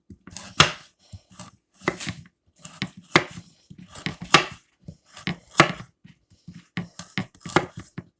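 A knife chops vegetables on a cutting board while homemade beef stew is being made, a close series of sharp, uneven thuds arriving in small bursts of two or three.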